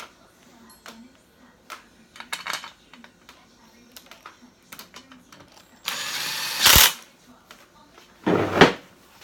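A power tool briefly zaps 10mm bolts on during bottom-end assembly of a Honda GX390 engine stroked to 460. Two short, loud whirring bursts stand out over quiet workshop clinks and handling noise.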